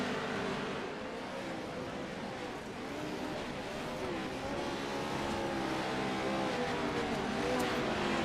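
Pro 2 Lite off-road race trucks circle on warm-up laps at Bark River, making a faint, continuous engine drone that rises and falls, with a commentator's voice heard over the motors.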